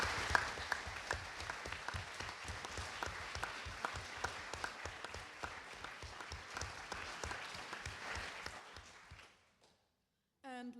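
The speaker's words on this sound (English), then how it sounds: "This is your applause." Steady audience applause fills the hall at a Model United Nations opening ceremony, rather faint and distant, lasting about nine seconds before dying away into near silence.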